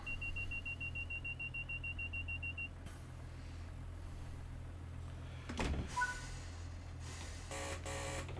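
Class 142 Pacer train doors locking in Train Sim World 6, with a steady electronic beeping tone for a few seconds, then a brief clunk and faint buzz over a constant low engine hum inside the cab.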